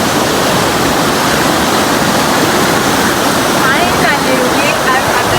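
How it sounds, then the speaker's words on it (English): The Koromosho waterfall in Kenya roars loudly and steadily beside a dam, a dense, unbroken rush of falling water close by that drowns out everything else. "Finally, we are at the Koromosho waterfall"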